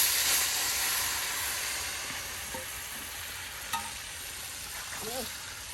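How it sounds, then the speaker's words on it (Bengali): Pieces of boal fish frying with onion, garlic paste and spices in a pan, a soft, steady sizzle with faint hiss and a few small clinks of a utensil, close and quiet. "বোয়াল মাছের টুকরাগুলোকে আপনার মশলার সাথে সুন্দর করে আপনার কষানো হচ্ছে"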